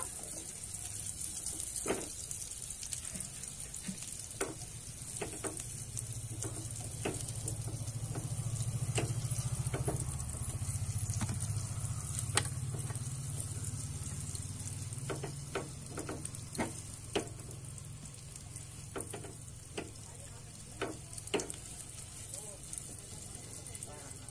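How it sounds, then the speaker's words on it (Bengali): Frying in a pan during the making of date-palm jaggery payesh: a steady close sizzle and hiss with scattered sharp utensil clicks and a low rumble, no speech. "দেখো এরকমই কিন্তু ভেজে নিয়েছি।"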